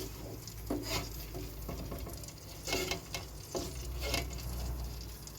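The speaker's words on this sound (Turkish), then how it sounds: "Şimdi karnabaharımı da bu karşı kızartmam üzerine ekliyorum." Hot oil sizzles steadily in a pan of mixed fried vegetables, broken by a few louder crackling bursts as cauliflower is tipped in and the pieces hit the fat.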